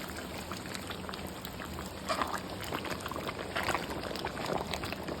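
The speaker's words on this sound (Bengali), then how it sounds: "এখন আমি এর মধ্যে গরম জল দিয়ে দেবো।" Hot water pours into a pan of browned mutton, giving a faint, steady liquid rush with soft bubbling and splashing throughout.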